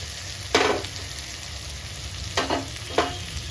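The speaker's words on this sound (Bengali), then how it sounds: "এবার এই গুলে রাখা মশলাটা দিয়ে দিচ্ছি" Soaked spice paste sizzles in a pan of sautéed ginger and garlic, a constant close frying hiss broken by three louder bursts of sputtering as the paste is added and stirred.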